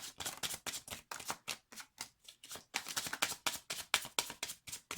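Rapid, rhythmic riffling of a deck of tarot cards being shuffled repeatedly, crisp and close, with no voices.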